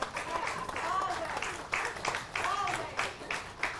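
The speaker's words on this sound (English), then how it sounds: "Give PG Santa, give him a round of applause and Silver Fox" Applause from an audience at a police department memorial service, a steady patter of clapping running under a speaking voice for the whole stretch.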